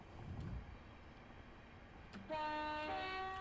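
A train horn sounds in the Train Sim 2022 video game on the Chatham Main Line, a sustained multi-tone blast that starts suddenly after quiet low rumbling and holds loud to the end.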